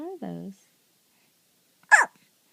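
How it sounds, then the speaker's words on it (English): A young child hiccuping indoors, a single sharp, close hiccup standing alone after a brief burst of adult talk. "Can you show us your hiccups?"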